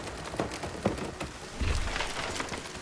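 Rain pours down in the survival crafting game Nightingale, a steady, close hiss of drops with a few soft thumps breaking through and no voices.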